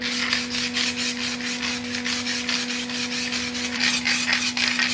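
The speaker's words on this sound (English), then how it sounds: "Give that a wee scuff, and then degrease and get into the painting." A primed engine bay on a Nissan Cefiro is scuffed before painting, with quick, even rubbing strokes repeating in a fast rhythm close by, over a faint steady hum, and no voices.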